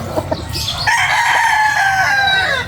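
Breeder chickens at a poultry farm: a rooster crows loudly and close in one long drawn-out call, preceded by a few short clucks, over a low background murmur of the flock.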